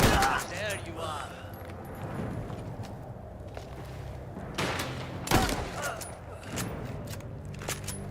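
Scattered gunshots ring out in the Mafia video game, a few sharp cracks separated by pauses, with game sounds in between.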